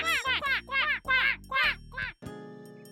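Cartoon ducklings in an animated Ugly Duckling story give a quick run of about seven loud, nasal quacks in a bouncy rhythm, followed by a light ringing chime.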